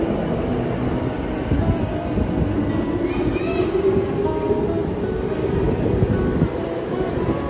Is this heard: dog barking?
no